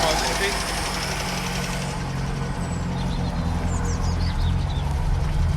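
The engine of a 1964 Vauxhall HA Viva, running again after 19 years, idles steadily and close by with a low rhythmic thrum, while people talk over it throughout.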